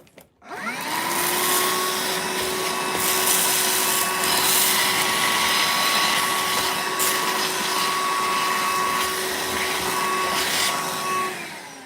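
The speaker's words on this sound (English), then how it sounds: "Mind the hoover noise for a minute" A vacuum cleaner runs steadily and loudly close by for almost the whole stretch, starting up at the outset with a rising whine and settling into a constant drone, used while working on an OO gauge model railway layout.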